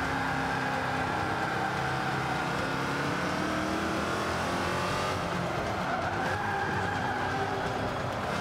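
Race car engine in the video game Forza Motorsport 5, a continuous high, strained whine with shifting pitch and hints of tire squeal, steady and loud throughout without talk.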